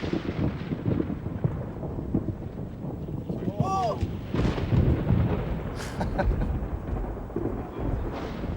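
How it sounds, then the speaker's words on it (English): Thunder from an approaching storm moving southwest to northeast, heavy low rumbling rolls over wind buffeting the microphone, with a sharper crack partway through. "We've got storms coming southwest to northeast"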